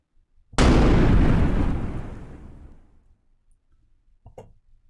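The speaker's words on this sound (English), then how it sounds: "And I think that makes for a really solid explosion sound." A designed explosion built in Pro Tools hits with a sudden loud blast, then rolls into a heavy low rumble that fades over about two seconds, followed by a faint small pop.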